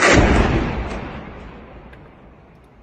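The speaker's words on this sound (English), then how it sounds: "Syrian media is reporting a fourth wave of explosions heard in the capital." Loud explosion over Damascus, a single heavy boom that rolls and rumbles away over nearly three seconds, with no voices.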